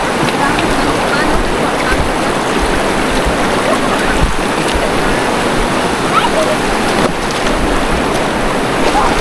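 Steady rushing water of a clear river flows loudly and continuously, with a broad noisy wash and some wind buffeting. No clear voices.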